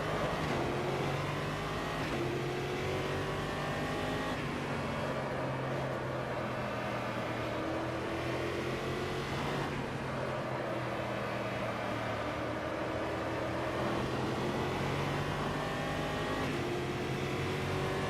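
Stock V8 race car engine in a racing video game at Campo Grande, a deep throaty burble rising and falling through repeated revs and gear changes, steady and prominent with no talk.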